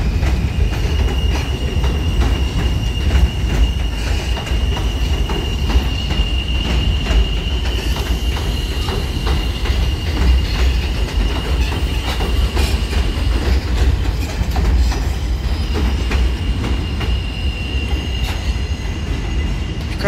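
A New York subway F train of NTT cars running on the West End line at Bay 50 St, a loud sustained rumble of wheels with rhythmic clacking over rail joints and squealing metal, close and continuous.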